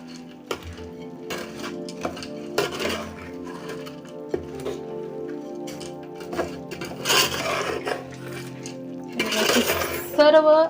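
A spoon scrapes and knocks against a metal pot while boondi is mixed into sugar syrup for laddu, giving irregular clinks and clatters, busier and louder toward the end, with a voice speaking over parts of it.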